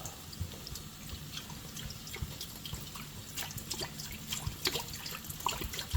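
Mountain Valley spring water is poured into a small pot, a faint trickle with light drips and splashes that continue throughout, close by, with no talk.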